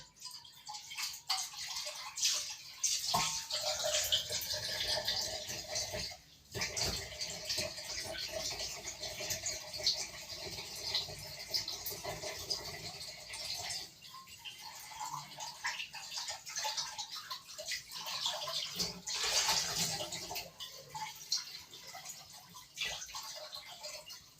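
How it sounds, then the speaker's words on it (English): A broiler pan gets a quick rinse under running tap water while making a cheesecake, with a steady splashing rush and intermittent clatter. The sound is continuous and close throughout, dipping briefly once. "I'm just going to quickly rinse my broiler because I'm going to need that again"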